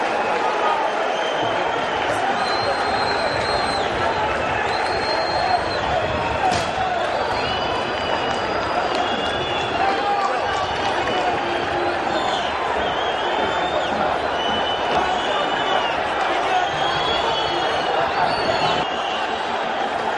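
A stadium crowd in Sfax, Tunisia, roars steadily as football fans invade the pitch after CS Sfaxien's third goal against CA Bizertin, a dense, continuous wash of shouting with a commentator talking over it.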